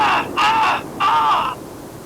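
A person's voice imitates seagull calls with two loud, squawking cries in quick succession, close to the microphone, followed by quiet.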